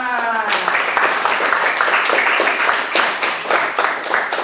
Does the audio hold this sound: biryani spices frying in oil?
no